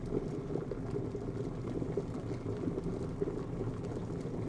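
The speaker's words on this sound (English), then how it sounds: "count rolling boil as large bubbles coming up" Water bubbles and churns steadily at a rolling boil in a clear kettle, a continuous close gurgling rumble with no voices.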